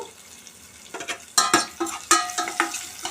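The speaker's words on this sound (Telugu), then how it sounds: "ఎండుమిర్చి వేసి ఫ్రై చేయాలి" Dried red chillies fry in a pan and get stirred with a utensil, giving a run of sharp scraping strokes and clatters over a soft sizzle, growing louder after a quiet start.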